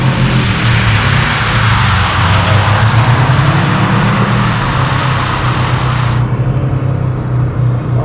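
Subaru car under load, a steady loud engine drone with a pitch that climbs and dips around the gear change, heard from on board with continuous road and wind noise throughout.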